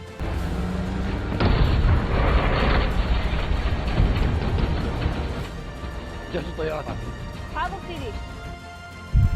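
Heavy, continuous booming blasts and gunfire from a war film battle scene rumble loudly throughout, with dense bursts and a few sharper reports near the end.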